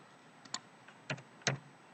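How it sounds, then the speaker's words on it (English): Slow two-finger typing on a computer keyboard, just a few separate soft key clicks spaced out over two seconds in a quiet room. "as you can see, I type with two fingers"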